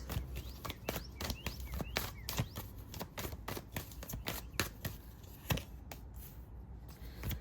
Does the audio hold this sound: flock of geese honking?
no